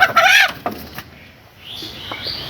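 Chickens and roosters on a poultry farm give short clucks and calls from a new coop, with a loud burst at the start followed by softer, scattered sounds.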